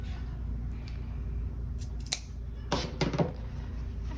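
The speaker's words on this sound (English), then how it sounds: "I'm just going to snip it to the stitching" Scissors snip the fabric corner of a rag doll sleep sack near the stitching, a few close crisp cuts bunched together after a quiet stretch of room tone.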